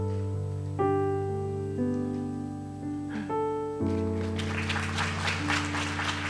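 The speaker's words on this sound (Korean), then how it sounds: "큰 박수로" A church congregation at a Sunday service in Namyangju applauds a deacon receiving a certificate, a swelling burst of clapping that rises under sustained organ-like music and fills the hall.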